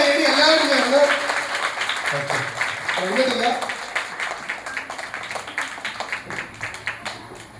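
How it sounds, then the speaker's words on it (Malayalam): Audience applause at a prize-giving during a Malabar Singoo fan fest, starting under a voice and crowd noise, then settling into steady rhythmic clapping that gradually thins and fades. "നിറഞ്ഞ കയ്യടി എല്ലാവരും ചേർന്ന്."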